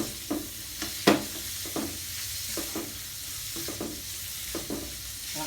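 Fatty pork stir-fried in a hot pan for a Thai chili-paste dish: a steady sizzle with repeated scraping stirs, one louder clatter near the start, no talking.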